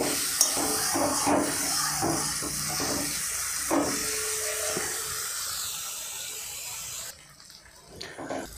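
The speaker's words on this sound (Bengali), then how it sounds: "এইভাবে মাঝে মাঝে একটু জল ছিটিয়ে মশলাটাকে সুন্দর করে কষে নিতে হবে।" Spice paste fries in a pan for a Bengali pabda fish dish, water sprinkled in so it hisses and sizzles steadily up close, then the sizzle thins and quiets near the end.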